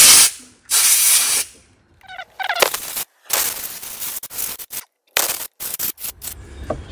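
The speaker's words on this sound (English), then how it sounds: "So the carb spray here." Loud, close bursts of carburetor cleaner spray hiss into the ports of a Yamaha golf cart carburetor in several separate blasts of varying length, with brief pauses and small mechanical clicks between them.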